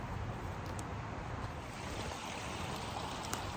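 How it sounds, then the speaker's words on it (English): A small creek runs on a rural property, giving a steady, even wash of flowing water with no clear ripples or splashes, close by and unbroken throughout. "See this little creek right here on the property?"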